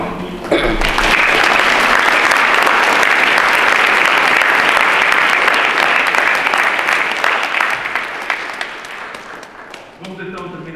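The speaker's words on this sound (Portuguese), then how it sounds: "Um grande salve de palmas." Congregation at a Sunday Holy Spirit mass in Half Moon Bay, California, bursting into loud, sustained applause that fills the church and gradually fades after about ten seconds.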